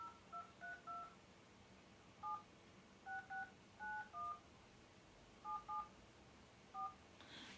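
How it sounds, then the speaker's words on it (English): Telephone keypad tones beep in short separate pairs, about a dozen presses in an uneven rhythm, faint and alone against a low hiss. "Please enter the number you wish to dial."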